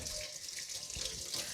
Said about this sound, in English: Gotta keep rinsing my hands off.